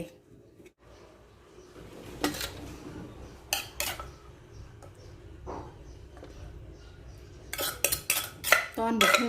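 Metal utensils clink and scrape against a tray and pots while cooked breakfast food is scooped out in a home kitchen, with scattered clatters that grow busier and louder toward the end, over a low steady background.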